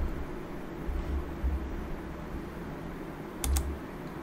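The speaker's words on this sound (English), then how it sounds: "So I'll push G on the keyboard for the gear." Computer keyboard keys are pressed during a combat flight simulator session, a couple of quick, sharp clicks close together near the end over a steady broadband hiss and low thumping rumble.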